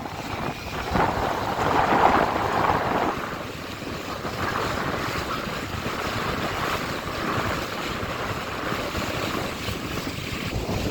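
A trawler crossing a rough sea channel toward Nalchira ghat on Hatiya island, Noakhali, with continuous wind buffeting and rushing water and waves around the hull, loud and unbroken throughout; no voices.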